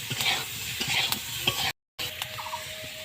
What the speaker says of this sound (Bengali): হলুদ আর নুন দিয়ে আর একটু ভেজে নিয়েছি